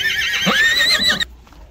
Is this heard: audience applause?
no